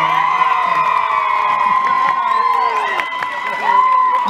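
Festival crowd at the Fiesta del Divino Salvador in Milan cheering and whooping for a couple, with shouting children and scattered clapping under a high-pitched, tonal din of voices.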